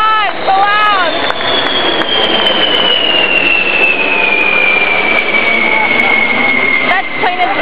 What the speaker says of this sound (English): Okay, this is B-52. It's the biggest bomber that's made. Look at it flying overhead.